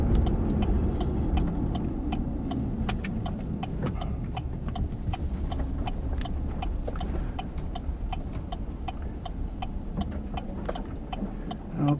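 A vehicle rolling slowly into a wooded area, its engine a quiet, steady low drone, with frequent light clicks and rattles like gravel or loose items knocking inside the cabin.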